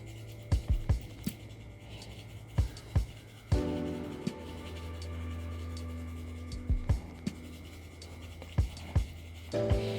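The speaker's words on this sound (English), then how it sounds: "now I can use my graphite pencil in the mid-tones" Graphite pencil shading on paper, with light scratchy strokes in short repeated bursts and occasional taps, close and fairly quiet, no talking.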